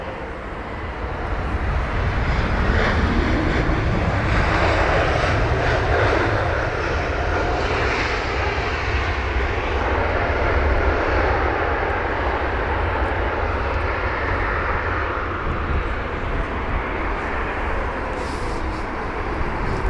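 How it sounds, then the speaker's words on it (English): A Swiss Airbus A320neo arriving from Zurich lands at Heathrow, its engines giving a steady, loud, broadband roar that holds without a break for the full twenty seconds. "So this is Swiss and their A320neo from Zurich, so it's a 1 hour and 20 minute long journey with a nice touchdown there."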